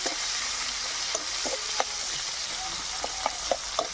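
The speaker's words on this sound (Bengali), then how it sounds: "পেঁয়াজটা একটু ভাজা ভাজা করে নেবো" Chopped onion sizzles steadily in hot oil in a pan, close and continuous, with a spatula scraping and stirring in short clicks throughout.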